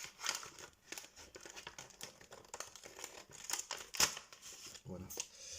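Scissors cutting open a football player card pack, with crinkly wrapper rustles and quick snips in a close, busy tabletop scene, and a voice speaking over part of it.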